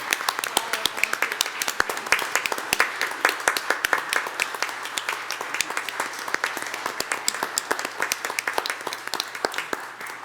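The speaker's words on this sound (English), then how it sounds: "I think we should stand up and give it applause." A crowd at a Pacifica city council meeting applauds, with loud, sustained clapping from many people, sharp individual claps standing out throughout and no break in the ovation.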